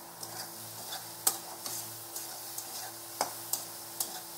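Bamboo shoot stirred in a pan with cumin, coriander and chilli powder gives a run of light scraping strokes and soft taps over a low, steady sizzle, close and fairly quiet.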